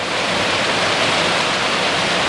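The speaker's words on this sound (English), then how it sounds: "coming across a raging river" A raging mountain river on the Mt Whitney trail rushes with a loud, steady, unbroken roar of churning water, constant and close throughout.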